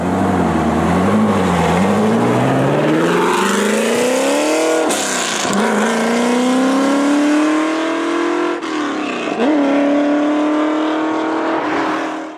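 A Ford GT40 Mark II race car engine roars loud and close, with pitch climbing through revs, dropping at gear changes and rising again in a continuous, manic howl.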